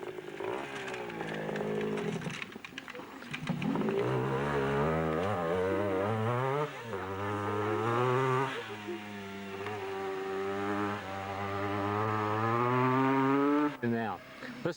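A throaty enduro motorcycle engine at a Bulolo enduro race, its rising and falling harmonic drone swelling closer across a continuous, loud pass with several throttle changes and a brief cut near the end.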